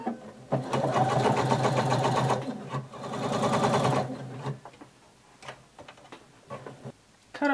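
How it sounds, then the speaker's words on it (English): A sewing machine stitches around the armhole opening of a colour-blocked pullover top in two close, steady runs of rapid whirring, then stops for light handling sounds. "we're just going to sew all the way around."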